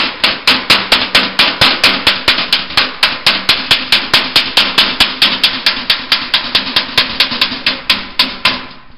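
A hammer peens copper over a dolly on a homemade mash pot, sharp metallic strikes in a fast, even rhythm of about three per second, loud and close, continuing for most of the stretch before stopping.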